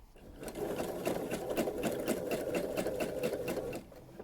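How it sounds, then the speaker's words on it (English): A sewing machine stitches appliqué embroidery in a steady, close run of rapid needle pulses that begins and ends abruptly and plays alone. "we're going to sew this one at a less of an angle"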